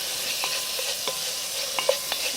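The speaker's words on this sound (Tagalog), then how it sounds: "Give it a stir" Garlic and ginger frying in a pot over an open fire, with a steady close sizzle and a few soft utensil scrapes and taps as the mixture is stirred.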